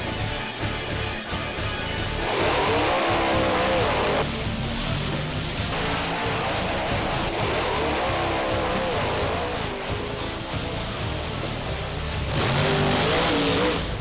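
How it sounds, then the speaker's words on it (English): Bigfoot monster truck running a 572 cubic inch engine with an 871 blower, about 1,500 horsepower, roaring loud and close with repeated revving surges and possible tire squeal, no talk over it. "Bigfoot is restricted to a 572 cubic inch motor with an 871 blower"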